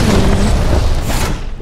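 A siege cannon fires in the video game Fortnite, a single loud, booming blast that fills the whole short moment with a rumbling low roar and no voices.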